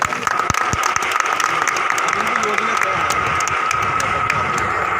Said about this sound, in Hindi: जोरदार क्लैपिंग है प्लीज